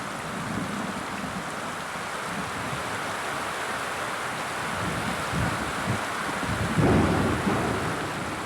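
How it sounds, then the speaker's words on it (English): A thunderstorm with steady rain falling over an eagle's nest, a broad continuous wash of rain noise with low rumbling thunder building and swelling loudest near the end, no voices. "This is an isolated storm, but it's a sign the rainy season isn't far away."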